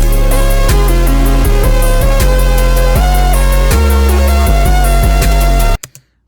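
A video game sound effect beat sample pitched up just under a semitone for a rage beat, with heavy pulsing bass and a bright looping synth melody that plays loudly, then cuts off abruptly near the end.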